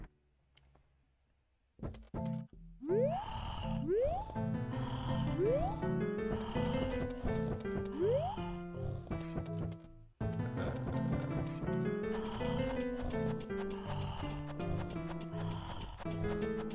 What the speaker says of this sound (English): You guys hear someone snoring?